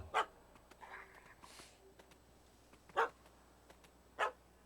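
Three short dog barks from the puppy in Zelda Breath of the Wild, spaced apart at moderate volume over a quiet game ambience with some faint breathy sounds.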